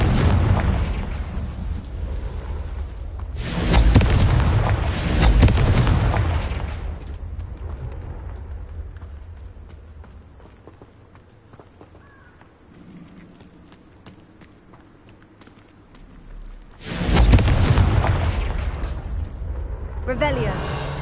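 Fire spell explosions in the Hogwarts Legacy video game: two loud booming bursts open the clip, quieter rumbling and effects follow, then another heavy blast lands near the end.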